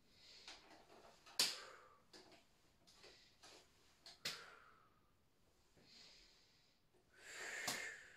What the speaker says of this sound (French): j'exagère ma respiration.